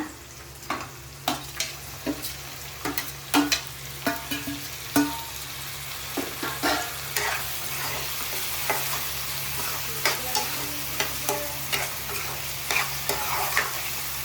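Tomatoes and dry fish frying in a pan with dosakaya, a steady sizzle under repeated scraping and clinking strokes of a spoon stirring, close and moderately loud, no talking, with a low constant hum beneath.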